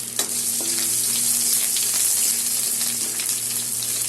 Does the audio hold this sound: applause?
no